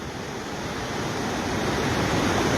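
The Banas river's flowing water makes a steady, broad rushing roar that fills the scene and grows slightly louder, with no voices over it.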